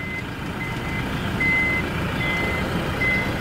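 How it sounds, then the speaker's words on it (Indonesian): Rear parking sensor on a 2019 Toyota Fortuner 2.4 VRZ diesel sounds a series of short, evenly spaced electronic beeps over a steady idling engine rumble, with no voices. "Ada kamera sensor parkir, sensor belakang, kamera belakang."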